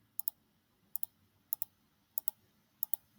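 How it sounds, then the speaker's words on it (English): A computer mouse clicks in five evenly spaced pairs of crisp double clicks, close and quiet with nothing else sounding. "we need to do is just keep clicking around"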